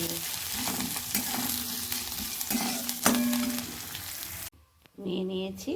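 Onion and garlic fry in a pan with a steady close sizzle and occasional utensil scrapes and clinks, cutting off briefly before a short quieter stretch.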